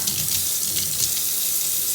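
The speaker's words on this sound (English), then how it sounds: "I like to add hot water because I don't want to add cold" Hot water pours from a tap into a sink, a loud, steady rushing hiss that carries on without a break and with no voices.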